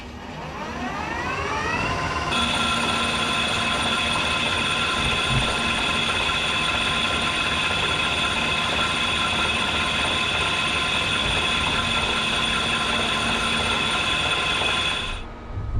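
A big lathe bores a deep hole in a steam engine restoration part, a loud steady metallic grinding roar with rising tonal whine as the cut begins, continuing unbroken for about fifteen seconds before stopping.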